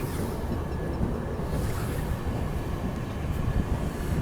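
The Amritsar Swarn Shatabdi Express runs along the track with a loud, steady, broadband rumble of rail travel that holds at an even level throughout.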